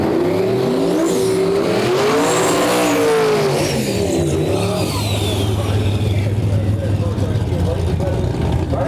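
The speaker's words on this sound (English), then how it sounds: "Here we have a Pontiac Ventura." Pontiac Ventura drag car with a boosted LS engine at Interlake Dragway, a loud revving roar that climbs in pitch and then sustains as the car races. Tires squeal and a voice talks over it.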